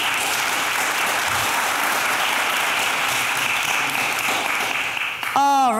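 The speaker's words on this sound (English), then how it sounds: "Could we please give them a warm round of applause?" Audience applause for a panel at a climate solutions event in New York, steady dense clapping from a large crowd, loud and continuous, ending in a brief sharp electronic tone.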